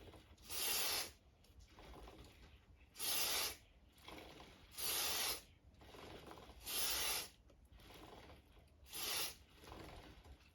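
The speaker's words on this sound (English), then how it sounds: "give it a spray, rotate it," Bursts of aerosol spray as Penrite chain lubricant is applied to a bicycle chain, five sharp hissing blasts at roughly two-second intervals, with soft ratcheting of the chain being rotated between sprays.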